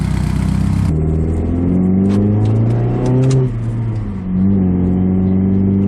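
A nearby car engine revs up, its pitch climbing and falling as it accelerates, steady and loud throughout.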